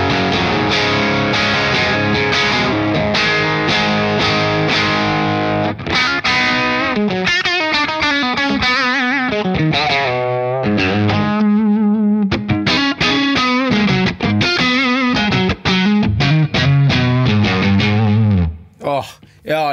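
An electric guitar played through a Friedman BE-100D amp with the gain turned up, giving loud, distorted chords and single-note riffs with sharp attacks and brief pauses.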